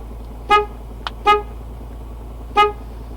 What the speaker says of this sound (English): for each existing fob, we have to press unlock and lock until the horn sounds